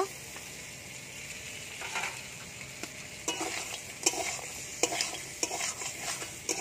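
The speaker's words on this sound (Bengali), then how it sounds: "ভেজে রাখা কাঁকড়া আলু বেগুন দিয়ে দেব।" Sea crab, potato and brinjal stir-fry in spices, giving a soft steady sizzle broken by repeated sharp spatula scrapes and knocks against the pan.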